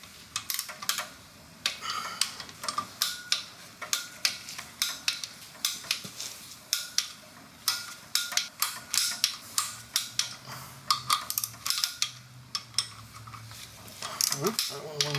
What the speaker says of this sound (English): torque these flywheel bolts